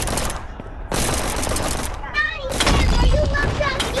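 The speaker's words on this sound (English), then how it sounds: "why did it take so many shotgun shots?" Shotgun fire in the video game Animal Company comes as loud, rapid, close blasts and crackling bursts with short gaps between them, along with faint game effects.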